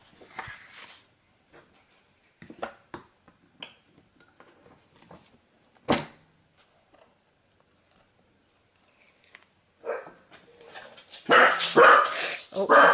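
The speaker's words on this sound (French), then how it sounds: "Désolé pour ces petits aboiements." A small dog barks in short, scattered yips separated by quiet gaps, ending in a louder, busier burst of barking.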